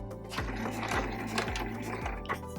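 A sewing machine stitches straight down a pencil pouch seam, a close, rhythmic mechanical chatter with regular thumps about twice per second.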